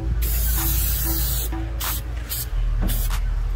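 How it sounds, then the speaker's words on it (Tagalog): Spray gun coating a custom-modified Volkswagen body in a paint shop, firing in several loud hissing bursts with short pauses between, over a steady low compressor hum; no talking. "So ayan, ispray natin siya."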